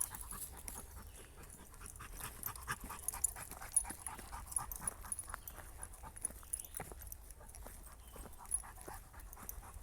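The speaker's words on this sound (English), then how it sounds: "He's a big ass dog." Large 110-pound Labrador panting during a busy forest walk, quick soft breaths running continuously and fairly faint against low outdoor background noise.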